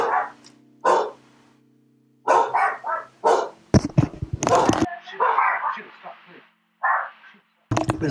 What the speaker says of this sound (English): my dogs are just barking like maniacs